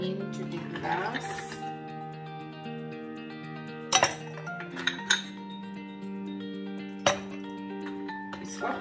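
Ice cubes clink and rattle into a glass while a fresh fruit cocktail is assembled, several sharp bright knocks standing out over steady background music and nearby clinking.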